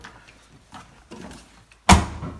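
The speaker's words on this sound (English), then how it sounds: "Okay, so close the door" A sharp, solid thud of a washing machine door shutting at the end, after a few quiet rustles and taps.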